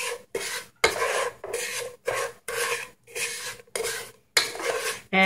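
A spoon scrapes slowly around a pot of caramelizing sugar for a Lao caramelized pork stew, close and fairly loud, as a run of rasping strokes with brief pauses between them and no voices.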